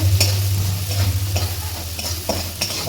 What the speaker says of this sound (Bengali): মশলাটা কষে আসছে